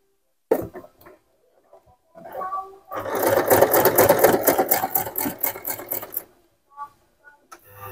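A Singer SM024 sewing machine runs a normal straight stitch to attach small cut fabric flowers, a rapid rhythmic clatter lasting about three seconds between quieter handling noises and brief pauses.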